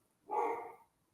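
A single short dog bark, close and fairly loud, over an otherwise quiet room.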